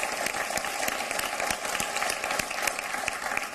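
Dense, sustained applause from an audience at a Hindi poetry recital, many hands clapping steadily throughout at moderate loudness.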